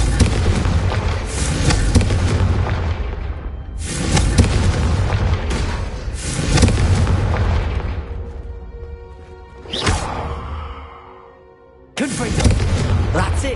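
A fiery Confringo blast spell in a Harry Potter video game, heard as repeated booming explosive bursts with crackling, rumbling tails and a loud, close impact near the end.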